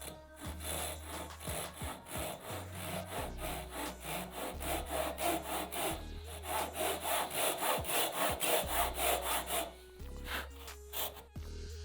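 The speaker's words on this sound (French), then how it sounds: "je fais tout un tas d'entailles au milieu de ma pièce pour retirer plus facilement la matière au centre" A hand saw cuts a series of notches into a wooden piece for a half-lap joint, with rapid rhythmic back-and-forth rasping strokes close up, then a short pause and a few final strokes, with no talk.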